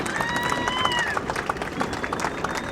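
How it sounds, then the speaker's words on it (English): Crowd noise at a varsity high school football kickoff, a broad murmur of excited spectators with scattered shouts and clapping under a commentator's voice. "kick off at the 40-yard line as the crowd getting excited"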